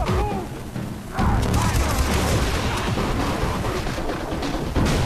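Dense gunfire and explosive booms from the Far Cry 3 video game, a continuous loud barrage of shots and blasts that swells after the first second and rolls on without pause.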